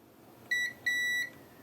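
A multimeter continuity check on a Nintendo Switch board for a short to ground gives two clean electronic beeps, a short one and then a longer one, over a faint background hiss.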